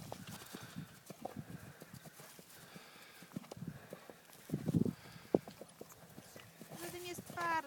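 A horse walks over uneven ground on a riding outing, its hooves clip-clopping in an irregular rhythm, with a whinny, rustling and people talking around it throughout.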